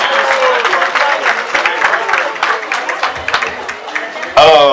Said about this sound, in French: On les applaudit encore une fois de plus,